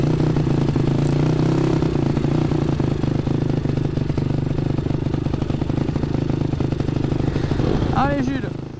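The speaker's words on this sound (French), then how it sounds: "essaye de la faire tourner, comme ça tu chauffes un peu le moteur." A Honda motorcycle engine idles and revs steadily throughout, warming up, with a rumbling low drone and some clatter, while a voice talks over it.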